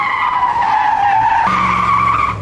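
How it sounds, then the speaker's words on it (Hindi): Tires squeal in a long, loud skid as a car pulls up on a comedy talk-show stage, one continuous screech that shifts pitch midway and fades at the end, with no voices. "सलमान भाई गाड़ी लेके आ रहे हैं"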